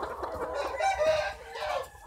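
Laying hens cluck softly nearby in a short, murmuring burst, low-level and unaccompanied by talk.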